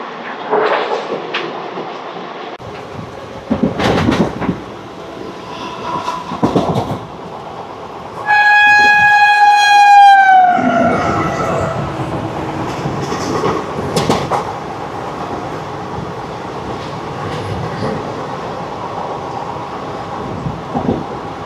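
The Puri Tirupati Express, a passenger train, rolls steadily along with clickety-clack wheel rhythm and rattling, then a loud sustained horn blast cuts in for about two seconds before the running noise continues.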